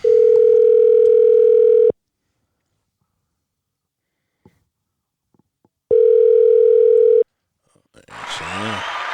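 A telephone dial tone sounds loud and steady for about two seconds, cuts to near silence, then returns for a second burst before a soft rustle of noise at the end; no one speaks.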